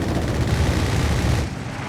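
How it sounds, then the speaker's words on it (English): Mines exploding in the World War II strategy game Company of Heroes 3, a loud, dense rumble of blasts and crackling detonations that cuts off abruptly near the end. "Mines exploding here"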